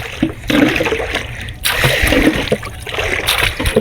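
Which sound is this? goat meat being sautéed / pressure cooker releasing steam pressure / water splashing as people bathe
water splashing as people bathe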